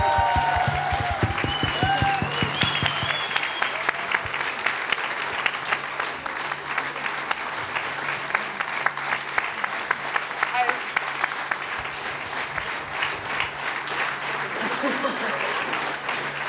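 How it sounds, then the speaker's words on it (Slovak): Audience applause at a talk show with a Romani band, sustained dense clapping that fills the whole stretch, with a few voices and brief musical notes at the start. "Potlesk."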